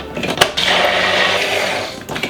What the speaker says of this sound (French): Machine miracle, un œuf, 2 œufs, machine miracle comme ça, on branche